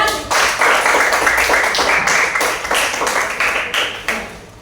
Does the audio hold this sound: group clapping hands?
yes